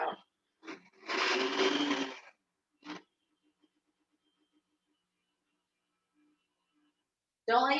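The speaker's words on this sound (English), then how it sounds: "Don't let your blender ever roll kind of like, and as it's heating up, it can actually burn the motor out." A blender whirs through strawberries in a short loud burst of about a second, with a few brief knocks and quiet gaps around it, then the motor noise returns at the very end.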